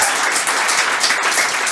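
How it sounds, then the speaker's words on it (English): An audience bursts into brief, dense applause for a right answer, a loud, close burst of clapping that fills the short moment. "let's give it an applause"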